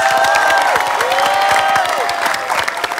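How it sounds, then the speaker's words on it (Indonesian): A studio audience on the Family 100 Indonesia game show claps and cheers loudly, with whoops and bright whistles rising over thick crowd applause for a few seconds. "tepuk tangan dulu dong untuk WhatsApp people"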